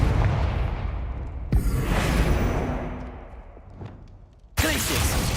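Confringo fire spell casts in Hogwarts Legacy, two loud sudden blasts with whooshing, rumbling bursts that swell and fade, close and forceful.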